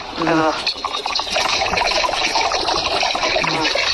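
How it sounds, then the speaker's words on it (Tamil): Water pours steadily into a cooking pot on a stove with a loud, rushing splash close by, while voices briefly talk over it. "தண்ணி ஊற்றுவோம்."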